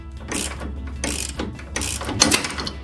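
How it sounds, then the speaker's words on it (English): A large crescent wrench turns a bolt while upper control arms are fitted to a Silverado 1500 truck, giving close, repeated bursts of metallic clicking and grinding at a regular pace, with no voices. "so I'm gonna use this big crescent wrench"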